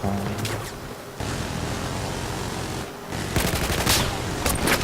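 Bursts of sniper gunfire and crackling shots in a video game scrim over a noisy, dense background, with a short pause and then heavier firing toward the end.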